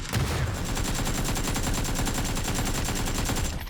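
Rapid automatic fire from an AKM rifle in an online battle royale shooter, a dense, evenly spaced stream of loud, close shots lasting several seconds without a break.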